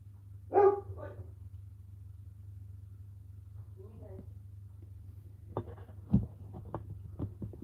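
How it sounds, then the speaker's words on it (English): A dog barks a few short times at intervals, fairly faint, over a steady low indoor hum. "just going to keep woofing because she can"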